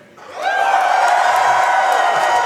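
A live audience at a Tetris: The Grand Master speedrun event bursts into loud, sustained cheering and whooping with scattered clapping, swelling quickly and holding steady for a couple of seconds.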